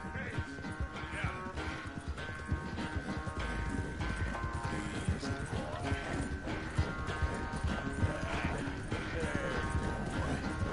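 Steady clip-clop of horse hooves galloping at a brisk, even rhythm in the video game Red Dead Redemption 2, with a continuous music bed underneath and no pauses.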